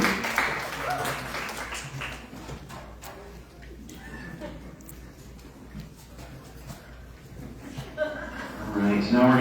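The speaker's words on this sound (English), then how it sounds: "round of applause to all of them for their hard work this season" Applause at a sled dog race banquet for the Fur Rondy Open World Sled Dog Race, a broad, steady wash of clapping from a seated crowd filling the room, swelling louder toward the end with some chatter mixed in.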